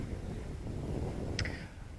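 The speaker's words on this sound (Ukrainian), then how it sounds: "Погода сьогодні вже тепла досить, але також сильний вітер" Strong wind blows outdoors beside a river near Mykolaiv on a warm day, a steady low rumbling buffet on the microphone throughout, with a brief faint chirp near the end.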